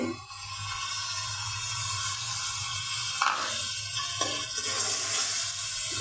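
Fish frying with spices in a pan makes a steady, fairly loud sizzle with crackling throughout, plus a few brief scraping stirs, and no voices.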